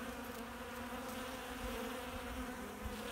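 Honeybees hum around their hive in a steady, dense buzz, close and continuous for the whole short stretch, with no voices.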